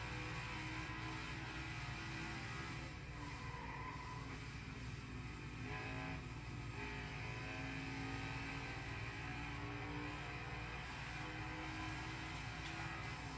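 Race car engines in the NASCAR Heat 5 video game drone continuously at a steady high pitch with slight rises and falls, as several cars circle together late in a race.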